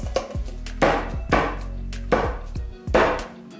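A garlic clove is crushed with a pestle, heard as four or five distinct heavy thuds spaced about a second apart, close and fairly loud, each followed by a short rattle, with no talking.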